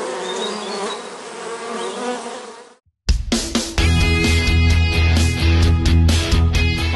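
Honey bees at a rural apiary in Teresópolis, Rio de Janeiro, droning in a dense, close swarm before a brief silence, then a loud layered buzz with sharp tonal bands and strong low hum.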